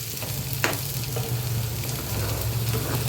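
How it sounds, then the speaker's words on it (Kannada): Garlic, ginger, green chilli and field beans frying in oil for an avarekalu sambar, a steady close sizzle with a low hum and one brief scrape of stirring. "ಬೆಳ್ಳುಳ್ಳಿ ಸ್ವಲ್ಪ, ಶುಂಠಿ, ಹಸಿ ಮೆಣಸಿನ್ಕಾಯಿ, ಸ್ವಲ್ಪ ಕಾಳು, ಇವೆಲ್ಲ ಫ್ರೈ ಆಗಲಿ ಸ್ವಲ್ಪ"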